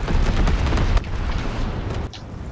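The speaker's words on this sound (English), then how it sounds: "Enemy bomber approaching. Incendiary bombs incoming." Incendiary bombs dropped by an enemy bomber in Call of Duty WWII multiplayer erupt in a loud, deep rumbling roar that eases off, then a sharper crack near the end.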